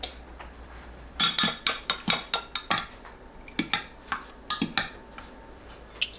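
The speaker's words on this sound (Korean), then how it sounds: "계란을 풀어서 준비합니다." Eggs for a Korean fried tofu pouch and enoki mushroom egg soup are beaten with utensils in a bowl, giving quick rhythmic clinking taps in bursts, close and fairly quiet, with no speech.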